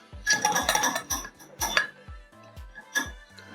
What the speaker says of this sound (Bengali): ভালো করে মশলাটা মিশিয়ে নিতে হবে।